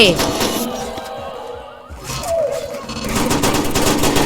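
Shotgun blasts aimed at zombies in the Roblox game Dead Slate: loud, punchy bursts that crack out at the start and again later, with a sharp ring between them.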